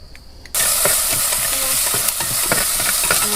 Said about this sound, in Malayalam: ഇനി നമ്മൾ ഇഞ്ചി വെളുത്തുള്ളി ചതച്ചതിട്ട് കൊടുക്കട്ടെ